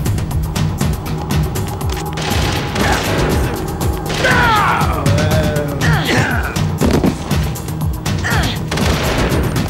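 Dense gunfire fills a Metal Gear Solid: The Twin Snakes firefight, rapid overlapping shots and crashes sounding loud and close throughout with game voices mixed in.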